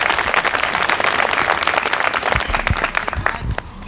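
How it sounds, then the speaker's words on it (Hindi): Loud, dense audience applause at a gathering about a teacher recruitment exam, a continuous close clatter of many hands that thins out near the end. "एक बार बुलंद तरीके से ताली बजाइए,"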